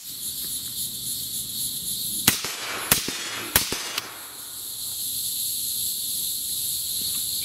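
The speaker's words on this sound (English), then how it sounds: "Fully loaded magazine. We'll go three shots here." Three sharp rifle shots from a 6.5 Grendel Lone Star Armory TX-15 ring out about half a second apart outdoors, each with a short echo, over a steady backdrop of chirping insects.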